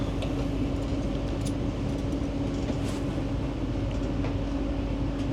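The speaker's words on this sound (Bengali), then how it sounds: "আমাদের ট্রেন প্রবেশ করছে বালুগাঁও স্টেশনে।" A train pulls into Balugaon railway station with a steady, dense rumble and hiss of rolling wheels and carriages, even in level throughout, with no talk.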